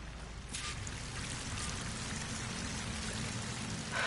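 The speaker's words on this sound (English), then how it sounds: "That waterfall must be coming from somewhere." A waterfall in the video game Horizon Forbidden West gives a steady, broad rushing hiss, like heavy rain or pouring water, at an even, moderate level throughout with no talking.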